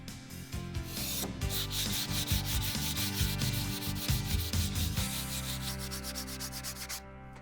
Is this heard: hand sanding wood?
yes